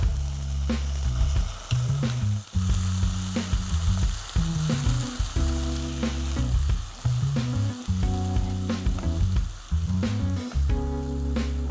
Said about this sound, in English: After sauteing the onion for a few minutes